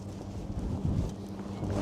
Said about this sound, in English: stay out of the wind, but it's gusting. Pretty heavy gusting every once in a while.